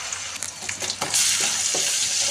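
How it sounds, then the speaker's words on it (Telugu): Ginger garlic paste fries in a hot pan with a bright, steady sizzle that swells partway through, punctuated by a few scrapes and taps of a spoon stirring, up close with no voices. "అల్లం వెల్లుల్లి పేస్ట్ వేసుకొని బాగా పచ్చివాసన పోయే వరకు వేయించుకోవాలి"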